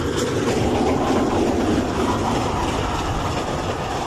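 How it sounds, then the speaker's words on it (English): A model steam train runs round the bends of a layout, giving a loud, steady rolling rumble with rhythmic clickety-clack from the wheels, continuous and close with no voices. "Gordon with an Elstridge local follows."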